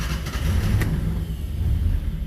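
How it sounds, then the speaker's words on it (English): A Fiat 600's small engine runs steadily close by, a low continuous rumble with a brief sharp click near the start and no talk over it. "Engine's running."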